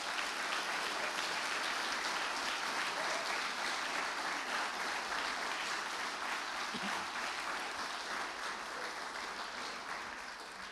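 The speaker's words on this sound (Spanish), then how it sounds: "Dale un aplauso al Rey este día." A church congregation at a Christian service applauds in a long, steady, dense wash of clapping that stays fairly even and fades slightly toward the end.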